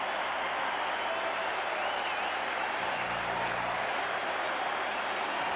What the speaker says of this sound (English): And you can hear the applause here at Maple Leaf Gardens for Börje Salming